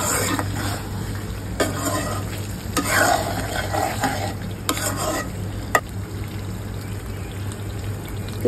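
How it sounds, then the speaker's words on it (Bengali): Meat curry being stirred and fried bhuna-style in a pan gives a steady close sizzle, broken by scraping stirs and a few sharper clanks of the spoon against the metal. "আমি হলো মাংস তরকারি রান্না করতেছি, এখনো হয়নি, এটা হলো ভুনা করলাম।"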